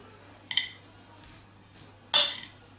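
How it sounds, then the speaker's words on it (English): Ground meat and egg mixture is stirred in a bowl with two distinct utensil clinks against the dish, a soft one early and a louder scrape-clank near the end, over a quiet room. "Then, mix well."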